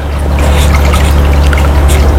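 Water trickling steadily from the outlet pipe of a hydroponic Dutch bucket back into a nutrient tank, a continuous close splashing dribble with a low hum underneath and no voices.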